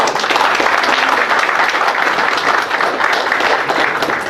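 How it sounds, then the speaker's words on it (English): A steady, dense round of crowd applause greets the newlywed couple at a wedding reception, sustained clapping from many guests filling the hall with no talk on top. "Round of applause, guys."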